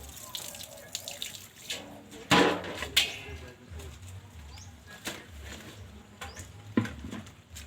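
A thin, weak stream of water trickles from a tap into a sink, quiet and steady, with a few clatters and soft knocks nearby.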